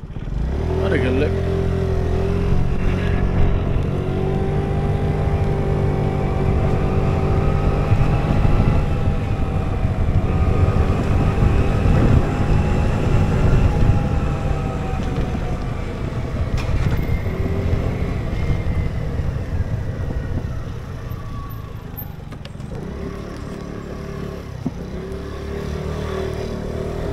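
A scooter rides into a Dutch town. Its engine makes a continuous hum that rises and falls in pitch as it travels, with wind buffeting the microphone throughout. The sound is close and steady, with a slight drop in level toward the end.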